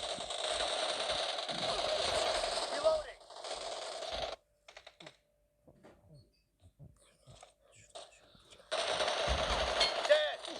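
Rapid bursts of gunfire come from a weapon in the battle royale game PUBG, loud automatic fire at the start and end with a near-silent stretch of scattered faint clicks and movement between.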